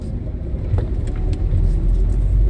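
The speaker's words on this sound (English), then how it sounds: "Just that 1-2 shift is just so much fun." A 2000 Porsche Boxster S with a 250-horsepower engine, a manual gearbox and over 200k miles drives with a steady, close, low engine rumble that swells slightly as it pulls through a gear change, with no talking.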